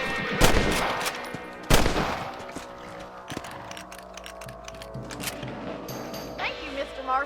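Rifle shots crack out in a Red Dead Redemption rabbit hunt, two loud reports early on followed by mechanical lever and ratchet clicks, with game dialogue and ambient noise around them.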